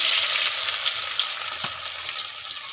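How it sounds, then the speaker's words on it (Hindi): Onions sizzle and fry steadily in hot ghee in a wok, a loud, close, continuous hiss with a brief clink partway through, no talking. "घी गर्म हो चुका है, तो प्याज शामिल करेंगे।"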